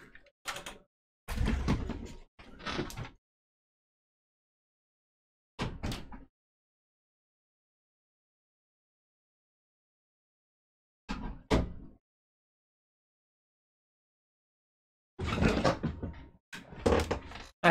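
Door opened to let a cat in indoors, heard as several separate bursts of handling and movement with long silent gaps between them, fairly close, no talking.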